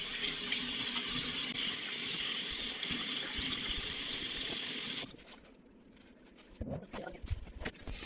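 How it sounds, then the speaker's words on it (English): A bathroom tap runs steadily for about five seconds while a washcloth is rinsed of face mask during a facial. The flow then stops, and a few close splashes and drips from handling the wet cloth follow. "Rinse all of that mask out of your washcloth. Rinse it off."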